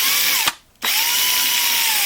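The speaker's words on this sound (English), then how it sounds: "some of these are pretty easy to drill out" A DeWalt 36-volt drill bores into a 1/64 NASCAR diecast car, whining loudly and steadily up close, cutting out for a short gap before starting up again at full speed.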